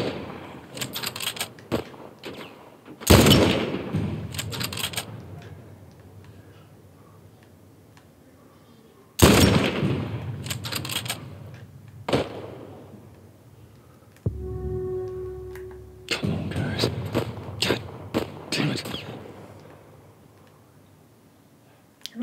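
Gunfire in The Last of Us Part 1 on PS5 comes as sharp, loud shots in scattered bursts, some single and some in quick clusters, with quieter gaps and a voice talking now and then.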